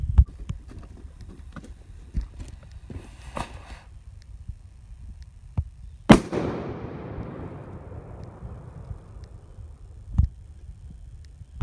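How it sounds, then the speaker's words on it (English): A blasting cap goes off under homemade ammonium nitrate fuel oil explosive without detonating it, giving one sharp, loud bang that is followed by a hissing spray. Several quieter thuds and knocks come before and after it. "it was still a pretty badass explosion"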